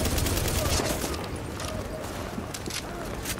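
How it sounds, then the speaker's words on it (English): Light machine gun fire in The Division rattles in rapid sustained bursts amid dense game combat noise, loud and continuous with someone talking over it. "Wow, this LMG is pretty good."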